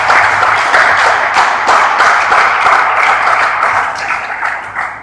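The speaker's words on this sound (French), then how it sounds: "Les acclamations, s'il vous plaît, parce qu'il est bien." An audience in a church at a Congolese gospel music event breaks into loud, dense applause that carries on for several seconds before easing slightly at the end.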